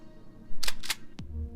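A shotgun being reloaded in the video game Empyrion: Galactic Survival, heard as a couple of quick mechanical clicks and a sliding clack in close succession.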